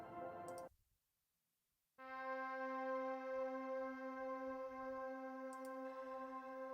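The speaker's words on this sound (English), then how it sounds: "We've got a drone." A synth drone for a pop track: a brief tonal snippet cuts to silence, then a steady, unwavering sustained tone enters and holds evenly to the end, with a faint click near the start and another near the end.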